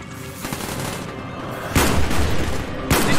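Dense gunfire and explosions in the shooter Call of Duty Black Ops during a crash-site battle, a continuous loud roar of rapid shots with heavy booming blasts landing near the middle and end.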